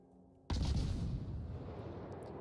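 Torpedoes strike the Yamato battleship in a naval video game: after a brief quiet lead-in, a sudden loud boom erupts and a heavy rumbling explosion tails off over the next two seconds.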